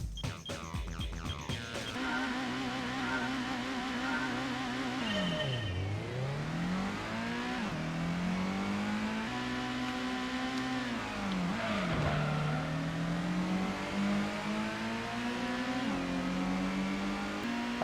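A Subaru Impreza wagon races in the original Gran Turismo. The engine drone is loud and steady, with the pitch sweeping up through the gears, dropping sharply at each shift and climbing again, close-up and continuous with no talking.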